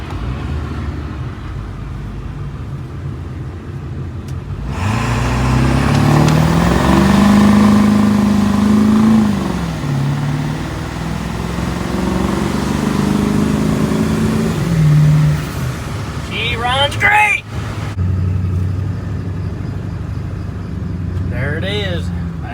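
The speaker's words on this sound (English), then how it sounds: "We are in the process of just test driving, so we'll see if she'll still burn rubber." A Ford 7.3 Powerstroke diesel truck on a test drive along the road: a loud engine drone climbs and holds as it accelerates, then settles into a lower rumble, while people talk over it.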